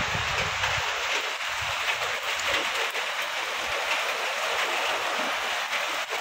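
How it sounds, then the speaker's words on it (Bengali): Steady, loud rain falls outdoors, a dense continuous hiss of drops striking surfaces with no pauses and no one talking. "বৃষ্টি শুরু হয়ে গেছে, দেখো"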